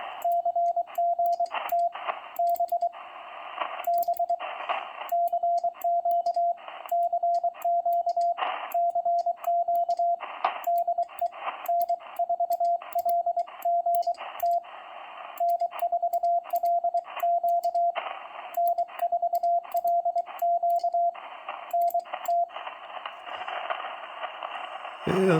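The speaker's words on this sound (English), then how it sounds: "You can probably hear my paddle over the background noise." Morse code sent with a paddle on an RGO-ONE transceiver using pin diode switching: a steady sidetone beeps in irregular dot-dash bursts over continuous radio hiss, and a brief louder burst of noise comes at the end.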